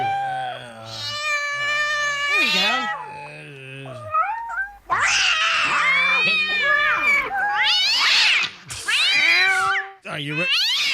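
Cat meows play as a sound effect for a radio morning show's cash prize contest, a series of loud, drawn-out, wailing meows and caterwauls with short gaps between them, and a voice speaks briefly.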